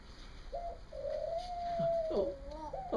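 Pigeons or doves coo at an animal humane society. A single drawn-out, wavering call sounds with soft shorter notes nearby, fairly close and quiet against a faint background hum.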